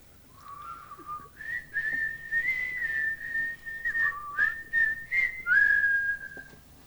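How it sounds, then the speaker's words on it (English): Someone whistles a short, continuous tune nearby, sliding from a lower opening note into higher sustained phrases broken by brief pitch dips, clear and unaccompanied by speech. "Can you whistle?"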